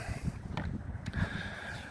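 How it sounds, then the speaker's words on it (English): Outdoor wind blows in a steady low rumble against the microphone, with brief gusty buffets near and loud throughout and no talk. "Oh, it's a little windy."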